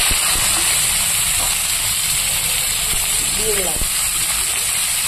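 Black cumin tempering and chopped vegetables sizzle in hot oil in a pan just used for frying fish, giving a steady, close hiss that runs throughout beneath a voice.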